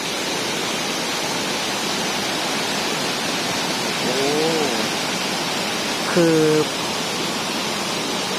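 Huai Mae Khamin waterfall in Srinagarind Dam National Park, a steady dense rush of falling water filling the scene, with a man briefly exclaiming over it.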